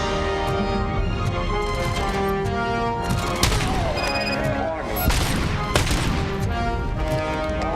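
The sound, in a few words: gunfire from enemy shooting in RoboCop Rogue City video game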